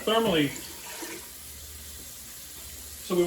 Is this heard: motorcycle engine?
no